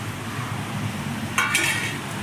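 Thick karapusa dough frying in hot oil, a steady low sizzle with a brighter crackling burst partway through, close and without talk.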